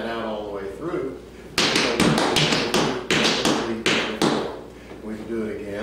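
Quick, sharp Ozark jig toe-toe-heel dance taps on a hard floor in a rapid rhythmic run, loud and close, with quieter moments before and after.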